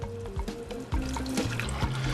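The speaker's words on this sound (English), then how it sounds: "So now I'm going to pour the beef stock in." Beef stock poured into a hot pan of reduced, bubbling pan juices: a steady liquid rush and splashing, close and continuous, with clinks and sizzle underneath.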